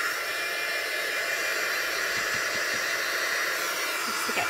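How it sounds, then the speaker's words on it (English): A heat gun blows hot air over a mat while decorating candles, giving a constant loud roaring hiss throughout, close by and steady with no talk. "I'm going to heat my gun up just a little bit."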